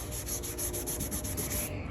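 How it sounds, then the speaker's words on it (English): Sandpaper drawn by hand across a truck hood makes a steady, close scratching rasp in even back-and-forth strokes that continue without a break, with no one speaking. "Okay, I'm getting ready to start sanding the hood."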